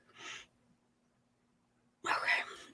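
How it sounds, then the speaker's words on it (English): A person's sneeze, preceded by a short breathy intake, then a sharp burst after a quiet pause, close and fairly soft. "Trying not to sneeze"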